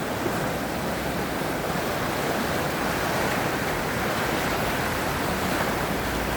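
Rushing floodwater of a swollen river beside the Swan Hotel at Newby Bridge, a loud, steady broadband roar that stays constant throughout with no voices.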